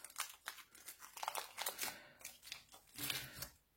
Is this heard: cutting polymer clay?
yes